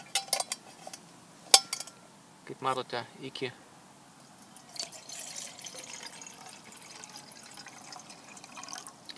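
Water is poured into the cooking cup of a British Army BCB cooking system, with a brief run of pouring and light metallic clinks close by while someone talks over it.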